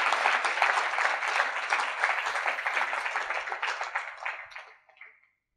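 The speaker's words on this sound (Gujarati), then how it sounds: "તાળીથી વધાવો." Applause rises from an audience at a Swaminarayan religious discourse, steady crowd clapping that holds for several seconds, then tapers off and fades into silence.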